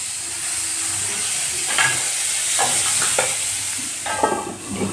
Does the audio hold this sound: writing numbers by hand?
no